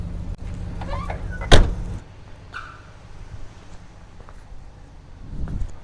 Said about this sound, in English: Close these windows.